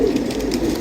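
A pigeon coos close by, a low, soft throaty rolling call filling the brief moment at moderate loudness with no talk.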